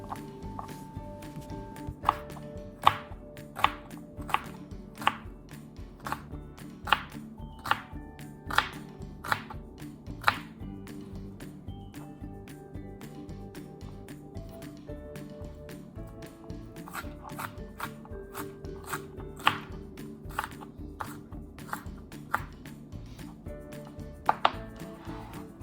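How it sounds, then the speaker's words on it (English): A knife chops onions on a cutting board for pico de gallo, with sharp, irregular taps, clustered in quick bursts and separated by brief pauses, close and fairly quiet with no talking. "you can always just take the knife back to them and just make them smaller"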